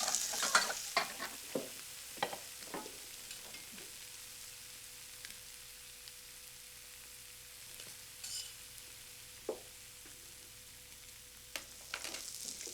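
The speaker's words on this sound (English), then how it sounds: "Just fry it until they're nice and crisp on the outside and" Food frying in a pan until crisp and browned, a steady low sizzle with scattered clicks and scrapes of stirring, close and fairly quiet, no voices.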